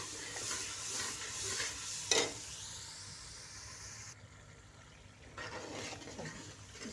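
Masala with onions sizzles quietly in a pan while being stirred, with soft scraping, a sharp clatter partway through and a low bubbling fry throughout.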